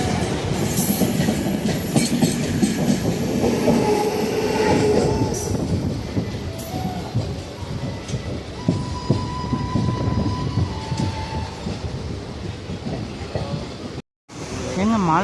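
A train rumbles past loudly and steadily, with rhythmic wheel clatter and occasional squeals from the rails.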